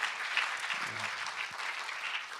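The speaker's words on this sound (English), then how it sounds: "let's have a round of applause for everyone" A room full of people applauding, steady and sustained clapping at moderate volume throughout, with a faint murmur of voices beneath.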